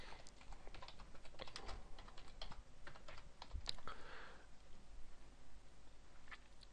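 Rapid typing on a computer keyboard while entering text into a search box, a steady patter of close, crisp key clicks with a few sharper taps, alone without talk.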